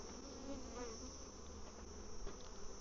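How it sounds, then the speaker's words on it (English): Honey bees buzzing steadily as they fly up off hive frames during a mite wash, a dense continuous hum of many insects close by with no talk. "Now the ones that'll fly away tend to be the older bees"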